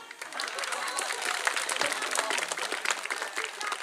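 An audience claps steadily at a circumcision celebration during a cultural training event in Indonesia, with dense, loud applause running throughout and crowd noise mixed in.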